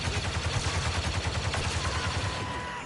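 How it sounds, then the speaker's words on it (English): Sustained light machine gun fire in Star Wars Battlefront II, a dense, rapid stream of shots rattling continuously at close range for the whole stretch. "LMG's not the most damaging, but it does help me to get to him pretty good."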